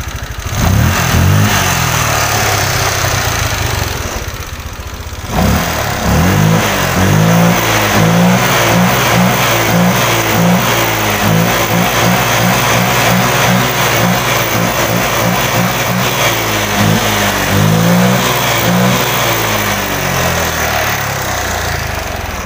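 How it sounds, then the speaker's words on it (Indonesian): Honda Vario 125 scooter engine throttled repeatedly up close, loud rhythmic revving rising and falling over a continuous idle after a brief dip, with no talking. "Terus sekarang kita tinggal tes untuk gasnya, dia lebih responsif atau tidak."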